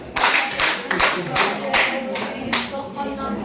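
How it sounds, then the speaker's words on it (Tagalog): A grade-4 class claps in unison as a reward, sharp group claps in a quick irregular rhythm, close and fairly loud, about seven distinct bursts in a few seconds. "Bigyan ng 5 palakpak ang lahat ng nakasagot."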